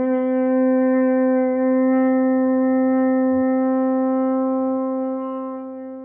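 French horn sounding a single open G with no valves pressed, one steady sustained tone held for several seconds, close and clear, fading slightly at the end.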